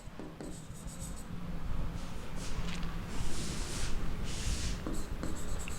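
Pen writing on paper while an accounting sheet is filled in with date, amount and period, steady scratchy strokes running continuously at close range, with no talking.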